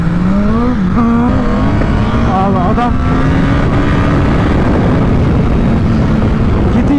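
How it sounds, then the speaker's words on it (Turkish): Motorcycle exhaust from a 1000RR sport bike fitted with an aftermarket exhaust, a loud steady engine drone with rising pitch, heard close under wind noise while a rider speaks briefly. "Yalnız egzozu çok güzel bir peyo peyo yapıyor"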